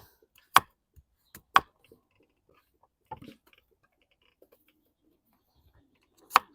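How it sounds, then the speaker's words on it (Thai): A knife chops through a winter melon for a chicken curry, giving a few sparse, sharp thuds with long quiet gaps and faint handling noises between them. "อ่ะเดี๋ยวลองหั่นมันก่อน"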